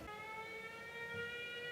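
An air raid siren in Ukraine sounds faint and distant as a steady, sustained wail. It holds one pitch throughout, with a low background rumble beneath it and no voices.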